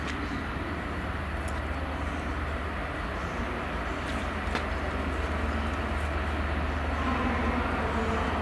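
A freight train of covered wagons rumbles steadily through Cardiff Central station, a continuous loud, even roar of wheels on rail with faint squeals and clanks over it.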